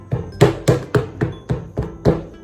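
A hammer strikes the edges of EVA foam for a denim Ankara bag, seven evenly spaced dull thuds close up with a steady rhythm and no talking.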